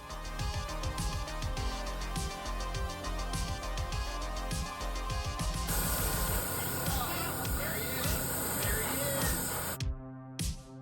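Dark gray paint, mixed from black and white, hisses in light passes from an airbrush onto a 3D printed Samurai Predator mask, a steady spray under background music.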